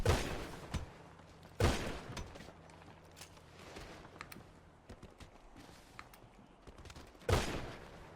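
Video game gunfire, several sharp loud bursts spaced apart with fainter scattered shots and clatter between them, close and without talk.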